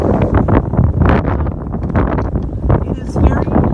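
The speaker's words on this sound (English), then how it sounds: "it is it's a little windy. Sorry about that." Wind buffets a microphone outdoors in Southern California, loud rumbling gusts that come and go throughout under continuous talking.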